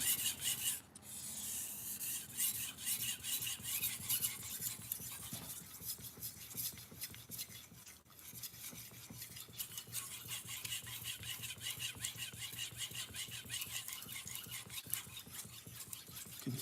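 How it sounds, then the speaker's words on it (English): Knife being sharpened on a 3K whetstone, steady rhythmic rasping strokes of steel on stone with faint crinkling of a burr, close and fairly quiet, without talk. "You can hear it, the burr crinkling a little bit under there."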